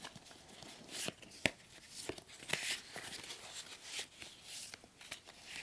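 Tarot cards being shuffled by hand, a soft, close series of papery riffles and slaps arriving in uneven bursts with brief pauses between them, quiet and intimate.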